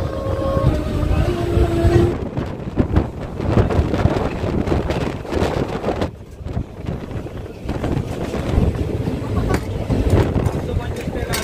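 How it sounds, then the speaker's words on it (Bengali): A local train pulls out of Sargachhi station at dusk, a loud, continuous, rumbling roar with buffeting noise throughout, and a voice talking over it. "ট্রেন ছেড়ে যাচ্ছে সারগাছি স্টেশন"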